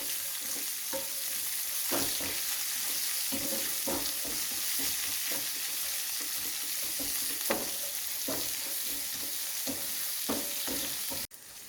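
Onions and chana dal fry in a pan over turned-down heat with a constant close sizzle, broken by repeated scraping knocks as a utensil stirs the mixture.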